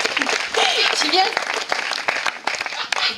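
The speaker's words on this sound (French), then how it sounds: "Vous pouvez l'applaudir très fort" A zoo show audience at Amnéville claps for a performing bird, scattered hand claps rising under a presenter's voice and crowd murmur, with bursts of applause punctuating the talk.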